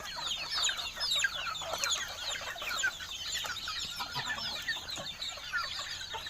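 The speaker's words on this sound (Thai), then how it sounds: "ไก่เยอะมากเลยครับผม" Many farm chickens cluck busily together in a dense, continuous flock chatter, with a few louder calls standing out near the microphone.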